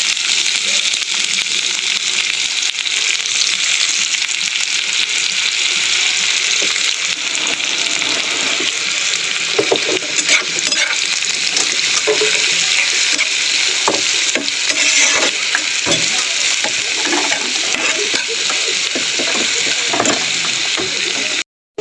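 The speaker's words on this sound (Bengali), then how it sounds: "ননস্টিকের সসপ্যান বসিয়ে দিয়েছি, দিয়ে দেবো তেল। গরম হয়ে গেছে, ওর মধ্যে দিয়ে দেবো কুচানো পেঁয়াজ" Chopped onions fry in hot oil in a nonstick saucepan, giving a steady, loud sizzle throughout with occasional stirring clicks and scrapes and no talk over it.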